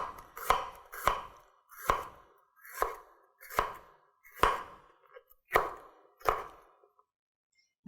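Knife thinly slicing a red pepper on a cutting board, eight crisp evenly spaced chops close up, each a sharp knock with a short crunchy tail, in an otherwise quiet room.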